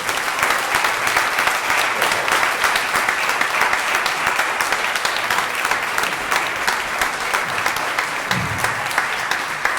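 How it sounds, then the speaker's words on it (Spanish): A gala dinner audience gives loud, sustained applause for a regional president, a thick, continuous roar of many clapping hands filling the room without letup. "aquí pido a todos un fuerte y gran aplauso al presidente de todos los valencianos"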